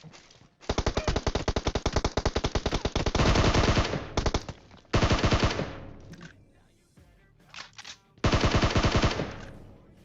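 M4 rifle fire in an online shooter game, heard as loud, close, rapid automatic bursts. A long sustained volley is followed by shorter bursts separated by brief pauses, then a final heavy burst.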